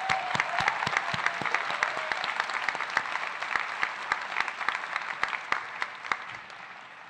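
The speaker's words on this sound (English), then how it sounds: "Students and staff, please applaud all the parents for their hard work." An audience at an eighth-grade school promotion ceremony applauds the parents, a sustained wash of many hands clapping with sharp individual claps popping out, steady and moderately loud throughout.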